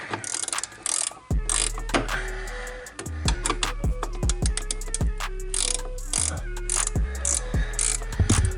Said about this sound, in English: So I'm gonna be taking this bolt off right there using this 12 millimeter.